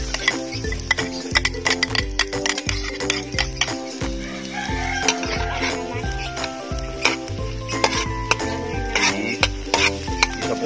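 Garlic sautéing in melted butter, a bright crackling sizzle with frequent spoon or spatula strikes against the pan, close and loud, while a rooster crows faintly in the background.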